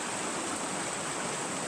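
River water rushing steadily at a mill's water intake, a dense, even, hissing flow that stays close and constant throughout, with no voices.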